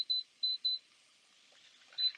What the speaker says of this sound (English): I'll set the timer